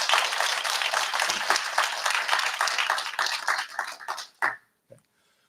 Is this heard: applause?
yes